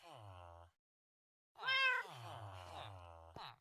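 Loud synthetic cat meows from Minecraft, one before a short silence and a longer, wavering one after, up close and clear.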